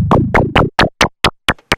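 A Winter Plankton ZAPS synthesizer fires a series of about eight short, punchy notes in an even rhythm while its Morph function crossfades between slots, each hit changing in tone, close and loud.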